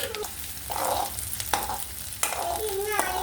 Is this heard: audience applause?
no